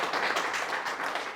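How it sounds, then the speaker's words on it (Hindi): A group of people applauds for Abhishek, a brief burst of close, dense hand clapping that stays fairly even throughout, without anyone speaking. "तो पहले तो अभिषेक के लिए जोरदार तालियां होनी चाहिए"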